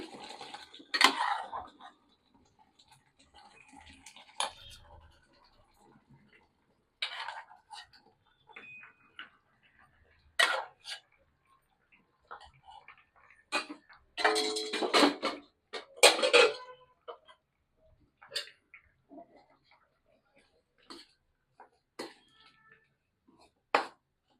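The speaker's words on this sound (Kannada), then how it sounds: "ಚೆನ್ನಾಗಿ ತಿರುಗಿಸ್ಬೇಕು" Metal utensil clinks and scrapes against a pot while sihi pongal with cooked moong dal and jaggery syrup is stirred, producing scattered, irregular clatters with quiet pauses between them.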